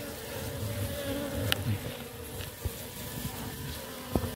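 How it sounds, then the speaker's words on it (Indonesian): A honey bee colony being moved out of a tree hums steadily nearby, a dense droning buzz with a few brief clicks and knocks, with no talking. "Ini dia ratu lebah madu, kita biarkan masuk ke dalam koloninya guys."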